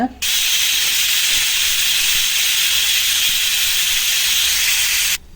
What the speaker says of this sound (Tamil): நமக்கு கடி ரெடி பண்றதுக்குள்ளேயே இது 5 சவுண்ட்ஸ் வந்துடுச்சு